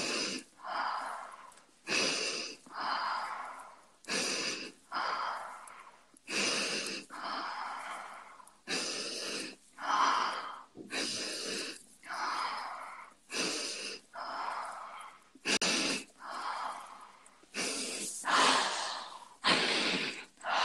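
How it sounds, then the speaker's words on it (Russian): Slow, deep breaths, close and audible, repeat in a steady cycle about every two seconds, each a long hissing inhale or exhale with short quiet gaps between them. "Дыши, дыши."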